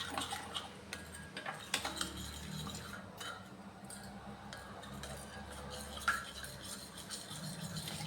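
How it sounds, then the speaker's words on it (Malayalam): Yeast being mixed into bread dough ingredients in a bowl at home, with light irregular clinks and scraping taps from a utensil against the bowl, fairly quiet and steady throughout, no talking. "ഈസ്റ്റ് എല്ലാം കൂടെ ഞാൻ നന്നായി മിക്സ് ചെയ്തിട്ടുണ്ട്"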